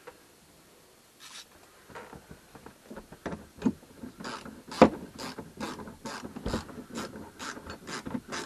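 A ratchet tightens the roof strap clamps on a caravan during resealing of the roof strap, giving a close, steady run of sharp clicks that grows denser and louder as it goes.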